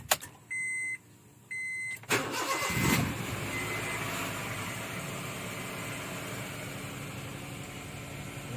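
A Honda Brio with a lit check-engine light and a misfiring engine: two electronic chimes, then the starter cranks and the engine catches into a steady, slightly uneven idle that drones on close up, with no talking.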